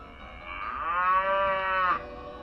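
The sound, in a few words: cow mooing sound effect in a story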